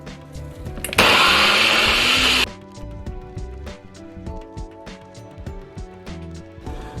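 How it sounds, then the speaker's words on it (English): A high-speed blender whirs loudly for about a second and a half, blending green seasoning with oil, then stops, leaving light clinks and handling noises. "So I'm using a high-speed blender"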